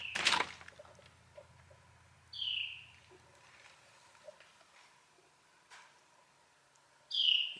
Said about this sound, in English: There are 2 different birds in here.